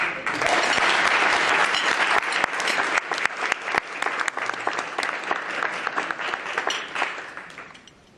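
A briefing audience on domestic violence's effects on children bursts into sustained applause for Congresswoman Sheila Jackson, dense clapping loud from the start and tapering off toward the end.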